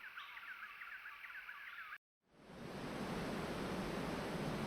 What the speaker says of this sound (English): Then I started to hear the sound of rushing water.